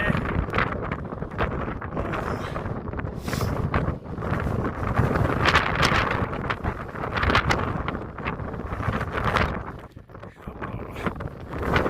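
Strong gusty wind buffeting the microphone high on Helvellyn mountain, a loud continuous roar and rumble that surges and dips across the whole stretch, with no talking.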